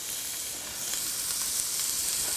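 Onions and garlic sizzle in a hot pan with a soft, continuous crackling fry, faint and even, with small pops scattered through and no talking.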